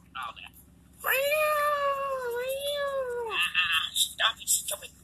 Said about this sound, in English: Stop it, stupid cat.